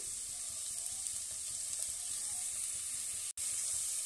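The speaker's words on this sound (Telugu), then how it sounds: "అలా ఫ్రై చేసేసుకోవాలి ఇది కూడా దోరగా వేయించేసుకోవాలి" Ingredients frying in oil for chicken pulao, a continuous close sizzle with a low bubbling crackle and a brief dropout near the end, no voices.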